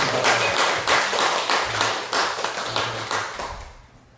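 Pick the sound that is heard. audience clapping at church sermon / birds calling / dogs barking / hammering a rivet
audience clapping at church sermon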